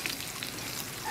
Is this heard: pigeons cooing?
no